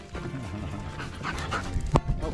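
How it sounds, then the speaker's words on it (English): A puppy on a farm pants softly and rapidly close by, with a brief whimpering yelp near the end, while a person talks over it. "We got a puppy."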